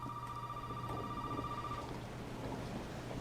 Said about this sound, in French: Il y a un téléphone qui sonne.